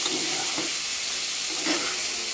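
Steady, dense sizzling of chicken curry frying in a pan as the water cooks off, with faint stirring scrapes, continuous and fairly loud throughout.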